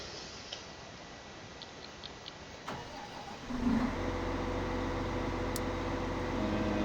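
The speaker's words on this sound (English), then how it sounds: "Start by sending the harvester to the fields." In the video game Farming Simulator 15, a harvester engine starts after a few faint ticks, then runs at a steady low rumbling idle with no talk.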